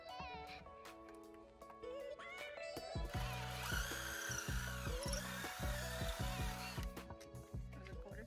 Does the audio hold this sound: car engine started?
no